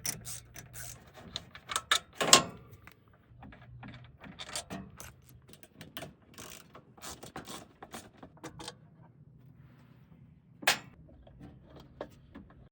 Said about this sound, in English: We're going to take an 8mm socket and take these 4 bolts off.